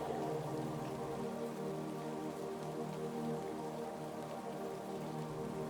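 Rain drops falling on leaves along a quiet forest path among tall trees, a soft continuous patter with steady dense tapping throughout, gentle and even in level, no voices.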